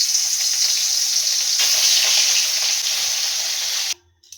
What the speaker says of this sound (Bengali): মাছগুলোকে আমি ভেজে নিচ্ছি।